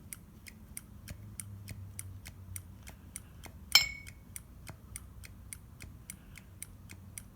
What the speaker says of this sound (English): I have to force it open and force it closed.